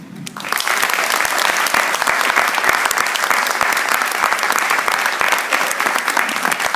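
An audience applauds after a talk by Dr. Shirley Weber at a Links to STEM event, the clapping starting sharply and holding steady and loud throughout.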